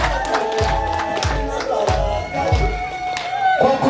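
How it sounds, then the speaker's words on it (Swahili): Crowd at a celebration clapping in rhythmic groups of beats for a commander, several sharp clap bursts over cheering and a din of voices. "Wapigie makofi matatu"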